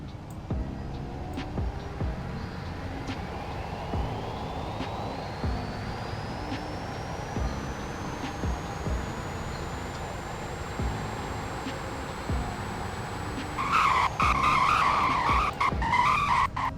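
A car in the Roblox game Greenville runs a speed test, its engine tone climbing steadily for about thirteen seconds before tires skid and squeal loudly near the end, with no talk.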